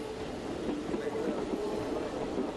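An Athens subway train passing underground, a faint continuous low rumble and rolling rail noise that holds steady throughout without clear wheel clicks.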